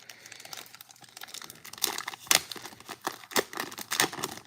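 A 1990 Fleer football card pack wrapper is torn open and crinkled up close, with loud crackling rips and bursts of rustling plastic, no talk over it.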